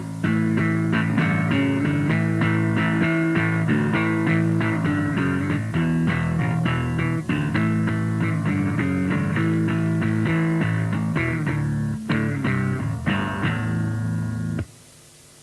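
Bass guitar strummed in steady chords, thick and distorted, playing continuously for about fifteen seconds before cutting off abruptly.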